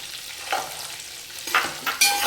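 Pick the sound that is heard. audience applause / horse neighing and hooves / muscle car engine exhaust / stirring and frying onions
stirring and frying onions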